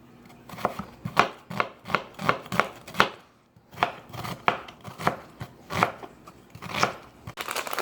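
An onion is chopped with a knife on a cutting board, producing a run of crisp, evenly spaced cuts with a brief pause partway through. The sound is close, fairly faint and has no talk over it.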